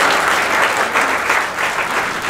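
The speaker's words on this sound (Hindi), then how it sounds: "सर के लिए एक बार फिर तालियां बजाइए।" An audience at a book launch on the premises of a defence academy gives a round of applause, steady and dense clapping throughout the moment, loud and close with no voices over it.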